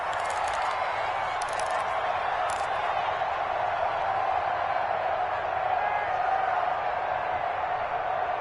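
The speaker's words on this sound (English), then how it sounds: "And this crowd has certainly liked what they've seen." A stadium crowd in a PS4 football video game roars steadily, a dense continuous wash of cheering that holds at a constant loud level throughout.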